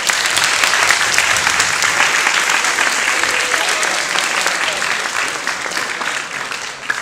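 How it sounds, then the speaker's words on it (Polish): An audience applauds the candidates at a high school presidential debate, dense and loud steady clapping that carries throughout and tapers off slightly toward the end. "ja bym na początku prosiła o wielkie brawa dla kandydatów za odwagę"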